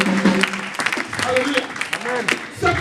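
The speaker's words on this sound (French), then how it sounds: "Je croyais que quelqu'un peut acclamer." A church congregation claps during a French-language Sunday service, the applause mixed beneath an ongoing voice and fairly steady, moderately loud throughout.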